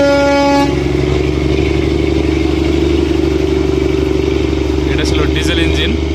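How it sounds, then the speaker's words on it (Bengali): The Darjeeling toy train's diesel engine pulls away at Batasia Loop, a loud continuous low engine drone with a steady hum, and a short horn-like tone at the start. "চলছে টয় ট্রেন, ফিরে যাচ্ছে দার্জিলিংয়ের উদ্দেশ্যে।"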